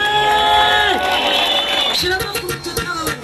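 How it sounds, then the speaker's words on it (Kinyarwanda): A large crowd of thousands at a year-end concert in Rwanda cheers and claps in rapid bursts just after a sustained singing voice, loud and close, with shouts mixed in. "Tomera Imana amashyi nimba ubyumvishe"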